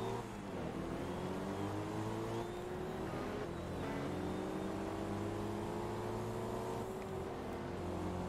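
A race car engine in the video game Forza Motorsport 2, steady loud revving with rising pitch sweeps as it accelerates through gears, continuous and close with no voices.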